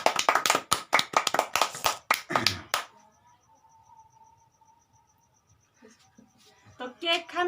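Family members clap quickly and rhythmically at a birthday cake cutting for Rakhi, a burst of sharp, close claps lasting a few seconds, then a quiet room with soft voices and a faint tone.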